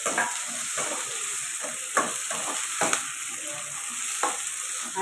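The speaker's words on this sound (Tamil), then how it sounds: "நல்லா வதங்கட்டும்." Tomatoes, garlic and a single chili sauté in a pan for fish kolambu, giving a steady close hiss and sizzle broken by several sharp scraping stirs of a spoon against the pan.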